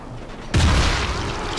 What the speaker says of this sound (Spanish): Pues para el explosivo le vamos a pegar un tirito.